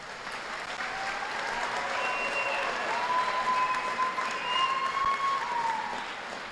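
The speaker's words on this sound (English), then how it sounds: "Let's give them applause." Sustained applause from the crowd at a high school graduation commencement ceremony for the North Tama class of 2025, even and fairly distant, rolling on for several seconds with no voices on top.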